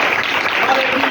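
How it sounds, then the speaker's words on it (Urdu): A church congregation bursts into full applause during worship, a dense, steady wash of many hands clapping at once that stays loud and even throughout. "آئے ہم خدا یسوع کے جلال کے لیے، اس کی بزرگی کے لیے بھرپور تالیاں بجائیں"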